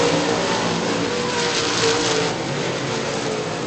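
Late model race cars roar around Virginia Motor Speedway, a loud, steady engine drone with shifting revs as the pack passes, continuous throughout.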